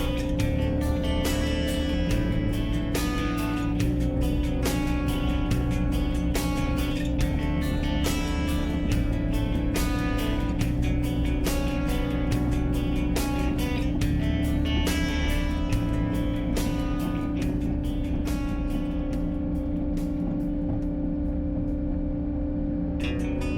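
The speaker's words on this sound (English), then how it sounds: "This grading attachment cuts and spreads in both directions." A tractor with a grading attachment cuts and spreads gravel along a 1200-foot driveway, producing a loud, steady engine drone with continuous rumbling that runs the whole time without any talking.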